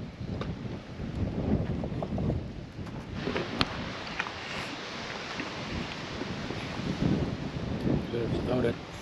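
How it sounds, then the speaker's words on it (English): Gusty wind blows outdoors beside a wood-burning pizza oven, buffeting the microphone in a steady, fairly loud rush with brief louder gusts, while a voice speaks faintly underneath. "It's a little windy today"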